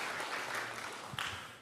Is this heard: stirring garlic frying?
no